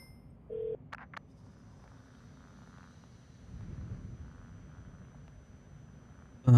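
A payphone in a video game gives a short dial tone and a couple of quick keypad beeps. A soft low ambience follows, and a louder thump comes at the very end.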